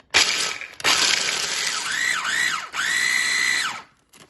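A kitchen grinder whirs loudly and close, blitzing raw almonds with nutritional yeast, salt and garlic powder into vegan Parmesan, in a few sustained bursts whose pitch rises and falls as the blade load changes.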